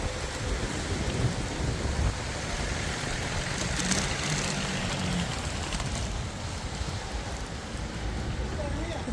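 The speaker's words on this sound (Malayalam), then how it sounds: "നല്ല മഴ പെയ്യുന്നുണ്ട്" Rain falls as a continuous dense hiss, steady and fairly close, with faint rumbling underneath throughout.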